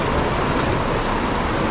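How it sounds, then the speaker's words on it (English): Steady rain falls in Portofino, Italy, an even wash of hiss without breaks, close and moderately loud. "it's raining."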